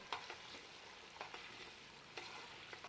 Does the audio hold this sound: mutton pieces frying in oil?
yes